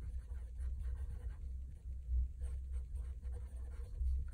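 Pen or pencil moves on paper, heard faintly and close up as short scratchy strokes in bursts, writing out a date and a title for a maths lesson. No voices.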